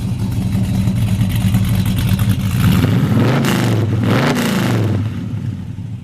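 A 1969 Pontiac GTO's exhaust rumbles up close from behind the car as the engine is revved, its pitch climbing and falling twice before settling back to a steady, throaty idle.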